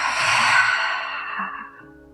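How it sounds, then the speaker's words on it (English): A long, soft breath exhaled through the mouth at the end of a yoga session, breathy and steady before fading out. "Exhale through your mouth."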